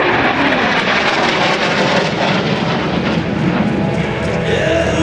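A loud, steady roar of a jet aircraft making a high-speed pass overhead at over 550 miles an hour at an air show, broadband and continuous, with a slight shift in pitch toward the end.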